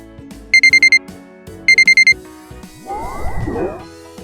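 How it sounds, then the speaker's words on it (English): Preset alarm-alert sound effects previewed in Animaytor animation software: two loud bursts of five rapid electronic beeps, like an alarm clock, followed by a swirling, clattering effect. "They have pre-built-in sounds like alarms, alerts, and that kind of thing."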